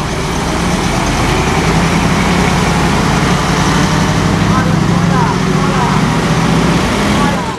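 The Jatra ferry's heavy engine rumbles loudly and steadily as the boat reverses out of a harbour on Lake Toba, a constant low drone with voices faintly mixed in.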